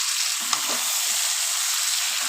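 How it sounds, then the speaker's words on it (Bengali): Mutton sizzling as it is fried and stirred with spices for a thin Bengali goat curry with chui jhal, a dense continuous hiss up close with faint scraping of the spoon, no talking. "আজকে খাসির মাংসটা আমি খুব বেশি কষাবো না মশলার সাথে ভালো করে মিলিয়ে নিয়ে তারপরে ঠান্ডা জল দিয়ে দেবো"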